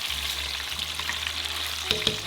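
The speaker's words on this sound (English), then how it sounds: "So now I'm doing the second frying." Chicken pieces on their second fry in hot oil for a sweet and sour chicken dish, giving a steady, dense crackling sizzle with occasional stirring sounds and a low hum beneath, no talking.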